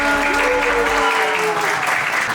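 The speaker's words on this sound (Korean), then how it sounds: "박수로 이번 시간 마무리하도록 하겠습니다." A short burst of clapping from teenage students at an emotional-learning camp session, loud and close, with a faint tonal voice or hum running underneath at the start.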